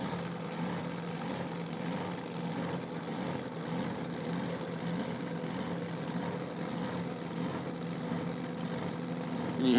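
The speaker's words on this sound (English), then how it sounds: "You hear the pulsing of the rotors of the blower punching in fuel at an uneven rate." A nitro drag car idles with its supercharger blower pulsing, a steady low rumble with a faint uneven throb at a distance that stays constant, then rises sharply right at the end.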